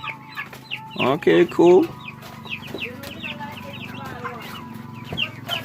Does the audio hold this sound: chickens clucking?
yes